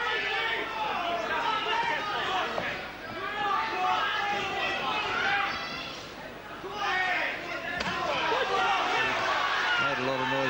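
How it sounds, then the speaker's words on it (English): A boxing crowd at a Dean Pithie bout in Coventry keeps up a loud, steady rhythmic chant of the boxer's name. It fills the whole stretch as a dense roar of many voices, with no single speaker standing out. "Coventry, part of the crowd, they're giving the Dino, Dino chant."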